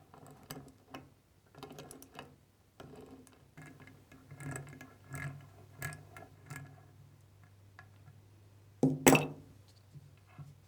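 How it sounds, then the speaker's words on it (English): An 8mm socket on a ratchet loosens the bolt on a 4L60E transmission's pressure control solenoid retainer, giving faint clicking bursts in uneven runs, then one sharper metallic clack near the end, with no talking. "Use an 8mm socket to remove the bolt which fastens the retainer for the electronic pressure control solenoid."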